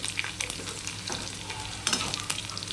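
Steady sizzling of onion and garlic frying in a hot pan, with occasional scraping stirs and crackles, close and continuous with no talking.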